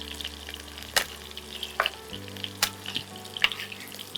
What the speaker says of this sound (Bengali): প্রথমে হোক, পেঁয়াজ, ভাজা হোক।